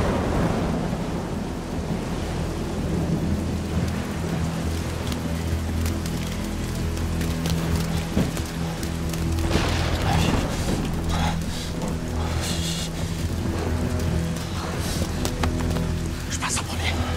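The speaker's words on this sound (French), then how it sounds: "quand il pleut en Corée" Heavy rain pours down steadily in the Korean zombie series All of Us Are Dead, a dense continuous wash with low rumbling and occasional clattering, while a voice talks over it.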